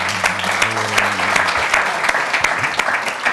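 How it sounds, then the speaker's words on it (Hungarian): Congregation applause at a church healing service, a dense, steady wash of many hands clapping that carries the whole time, with a voice briefly heard over it at the start. "Egy tapsot szerintem."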